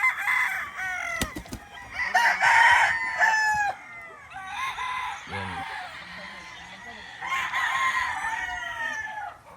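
Gamefowl roosters at a game farm crow repeatedly in overlapping calls, several birds near and loud, with a voice talking intermittently among them.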